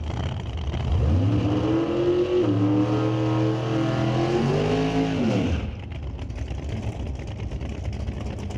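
Camaro drag race cars roar at NHRA Canadian SPORTSnationals eliminations, a loud engine note rising in pitch through gear changes and then cutting off, leaving a distant rumble and crowd ambience.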